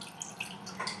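Water poured over melting jaggery in a pan while making Kerala broken wheat payasam, a brief splashy trickle with a couple of drip-like plinks, close and fairly clear.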